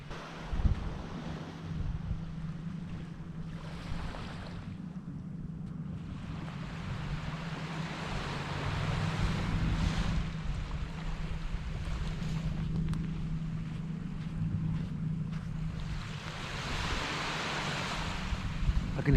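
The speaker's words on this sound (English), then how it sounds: "I can hear the ocean." Ocean waves surging on the coast at golden hour, a steady broadband wash with swells building and easing, heard close and fairly loud with wind buffeting the microphone throughout and no voices.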